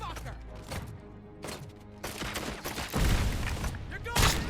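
Video game gunfire bursts out against an enemy in rapid volleys, with heavy thumping shots clustering toward the end, loud and close, mixed with game music and a voice speaking.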